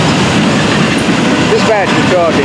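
Florida East Coast freight train with auto racks at the head end rolls past close by in early morning, a steady loud rumble of wagons with faint wheel squeal.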